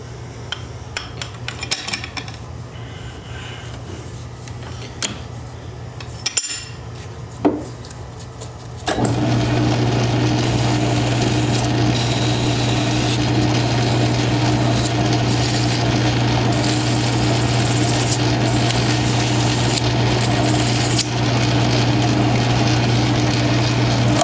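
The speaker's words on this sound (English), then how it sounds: "just take a piece of emery and go right over the top of this and just deburr that edge really," Emery cloth deburrs the edge of a wedding ring turning on a lathe. Quiet handling clicks and rubs come first, then a steady, close machine hum starts and runs throughout, with light abrasive rubbing over it.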